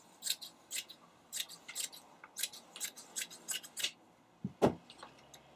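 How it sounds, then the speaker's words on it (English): Scissors snipping through striped fabric cut from upcycled jeans material for a tote bag, a run of about a dozen crisp close blade cuts in an irregular rhythm, followed by a soft handling thump. "cut this into half"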